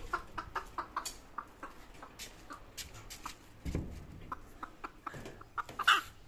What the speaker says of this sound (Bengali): আর এটা হলো মুরগির খোয়ার, দেখতে পাচ্ছ, এর দেখো একটা মুরগি